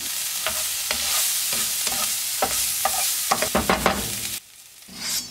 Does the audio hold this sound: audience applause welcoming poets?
no